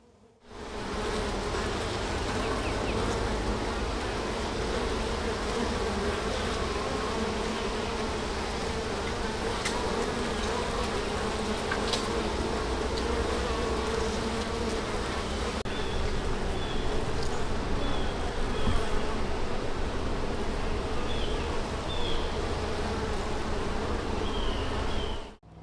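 Honeybees drone steadily at an open hive, a dense continuous buzz of many insects holding level throughout, with faint thin whines of single bees passing close now and then.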